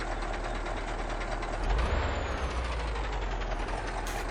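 Air brakes on a truck in a trucking video game hiss loudly over a steady engine rumble, with a brief louder burst partway through.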